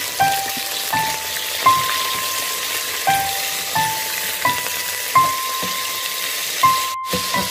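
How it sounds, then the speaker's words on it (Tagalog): Olive oil sizzling in a hot pan during seafood cooking: a steady crackling fry hiss runs throughout, with a recurring faint tonal hum layered over it and no voices. "Mainit ang ating kawali. Kaya lagyan natin siya ng olive oil."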